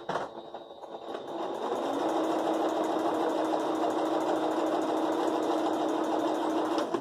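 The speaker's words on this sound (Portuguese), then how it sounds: "Vamos passar uma costura aqui, ó. Na diagonal" A sewing machine runs steadily, stitching a diagonal seam across fabric for a patchwork placemat, with a continuous loud motor hum after a brief start and no speech.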